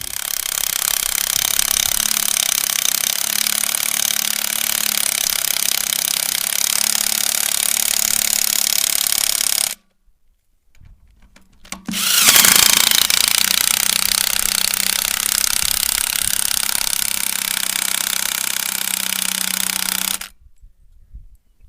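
An impact wrench hammers on wheel bearing bolts of a farm harrow, two long, loud rattling bursts of about ten and eight seconds separated by a short pause, close and dominant.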